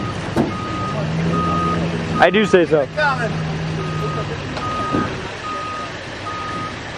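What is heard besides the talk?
truck reversing beeps while backing a race car trailer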